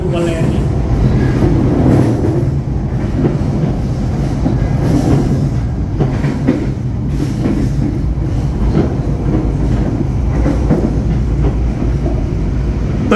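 Loud, steady rumble of a moving passenger train heard from on board as it passes Weleri station in Kendal, Indonesia, with rhythmic wheel clatter, occasional squeals, and faint voices underneath.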